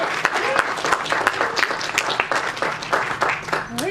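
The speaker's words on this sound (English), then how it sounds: "Another round of applause." Audience applause at a folklore roundtable, a brief burst of brisk, close clapping from a modest crowd.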